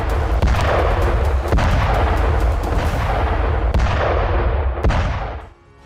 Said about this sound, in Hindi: नसरुल्लाह का बदला लेने की धमकी दे चुके ईरानी प्रॉक्सी ने इजराइल पर मिसाइलें दागी।